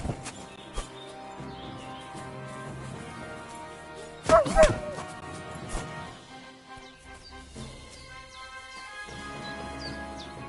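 The dog Mutt in Kingdom Come: Deliverance II gives a short burst of barks in the middle. Quieter game ambience with faint bird chirps plays before and after.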